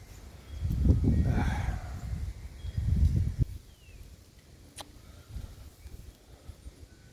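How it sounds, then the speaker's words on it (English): Wind blows through garden plants, pushing two strong, rumbling gusts against the microphone before easing into a softer, breezy rustle. "plants are loving the wind today"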